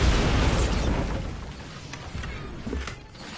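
A Bombarda spell blast in Hogwarts Legacy, a loud rumbling explosion that booms at the start and decays over a few seconds, with smaller bursts and crackles following.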